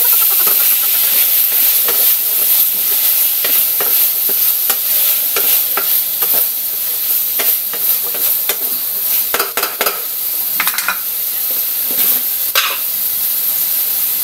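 Chicken fries loudly in a pan with a constant hissing sizzle, punctuated by repeated clicks and scrapes of a utensil stirring it, close and continuous throughout.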